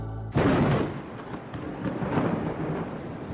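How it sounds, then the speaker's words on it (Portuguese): A loud thunderclap bursts in abruptly and then rolls on as a long, deep rumble that slowly fades, heard alone without talk. "deu uma trovoada"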